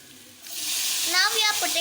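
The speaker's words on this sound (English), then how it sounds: "Now the onions are roasted nicely." Onions fry in a pan for aloo dum biryani, a bright, steady sizzle that starts abruptly and carries on close up while a person talks over it.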